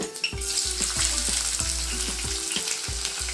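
Onions fry in hot ghee and oil for a vegetable saagu, making a loud, dense, continuous sizzle close by, with a low rhythmic thump underneath. No one speaks.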